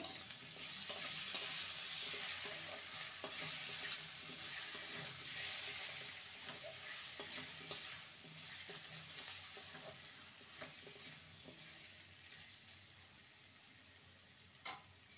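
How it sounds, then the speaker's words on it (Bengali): Ginger paste with turmeric powder fries in a pan for a ridge gourd and moong dal dish, giving a soft, steady sizzle with occasional faint stirring clicks, fairly quiet throughout. "আর দিয়ে দেবো আদা বাটা। ভালো করে কষিয়ে নেব।"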